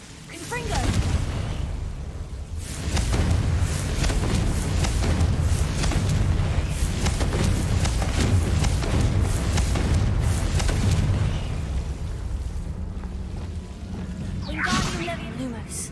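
Confringo blasting spells exploding in the Hogwarts Legacy video game, a dense run of booming bursts and whooshes that roll on for most of the stretch before tapering off near the end.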